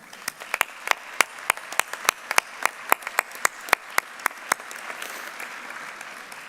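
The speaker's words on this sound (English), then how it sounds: "Please join me in saluting our faculty with a round of applause." Scattered, evenly paced hand claps ring out at a university fall commencement ceremony saluting the faculty, sharp and fairly close over a quiet hall, tapering off after about five seconds.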